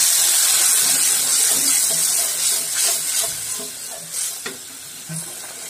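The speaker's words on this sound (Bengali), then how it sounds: "এরপর এর মধ্যে আমি দিয়ে দেবো ফেটিয়ে রাখা দই" Whisked yogurt goes into sizzling masala for potol dolma and is stirred in, making a loud wet hiss with bubbling and scraping close by, and no voices.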